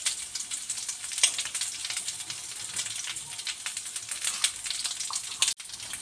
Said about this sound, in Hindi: उसको थोड़ा सा फ्राई करेंगे, रोस्ट होने देंगे।